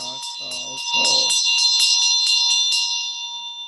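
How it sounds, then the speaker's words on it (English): A ritual bell shaken during Medicine Buddha chanting gives a rapid, steady run of bright metallic rings that blend into a sustained shimmer, with a short dry rattle at the start. The ringing is clear and close, then slowly fades. "They ring the bell."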